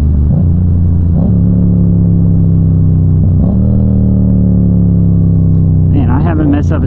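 A Yamaha FZ-07 motorcycle on the move, its engine a loud steady rumbling drone with a few brief shifts in pitch as the rider downshifts, and a rising rev near the end, with someone talking over it.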